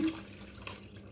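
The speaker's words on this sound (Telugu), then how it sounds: "త్రీ హండ్రెడ్ ఎంఎల్ వాటర్ ఇందులో యాడ్ చేసేసుకుంటున్నాను" About 300 ml of water runs briefly from a measuring cup into a container, a short soft pour with a light splash, close and quiet.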